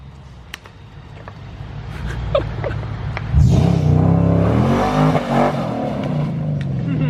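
An R32 drift car engine running on an ethanol mix idles roughly, then revs hard and holds a loud, rising roar, close by, with voices faintly in the background.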